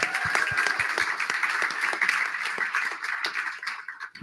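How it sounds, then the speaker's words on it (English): An audience at a Canberra pub politics event on fracking breaks into applause, a dense patter of many hands clapping close by that carries on steadily and thins out toward the end. "A round of applause."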